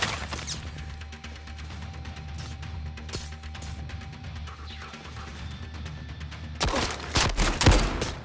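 Rifle fire in the Zero Caliber VR shooter game: a single sharp crack midway, then a loud cluster of rapid, booming shots near the end over a low, steady in-game background.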